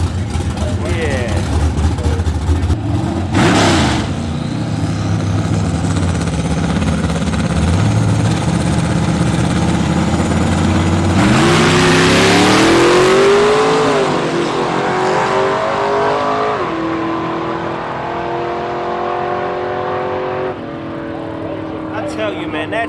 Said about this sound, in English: I tell you, man, that truck just flies straight, Bo.